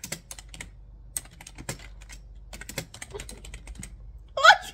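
Fingers tapping on a phone's touchscreen keyboard, a run of light, quick, irregular taps close by, with a brief louder burst at the end.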